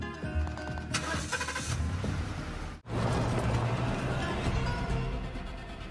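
A stolen car in an action film scene: an engine turns over and runs with a mid-pitched rumble, then after an abrupt cut a louder, fuller engine sound continues as the car pulls away.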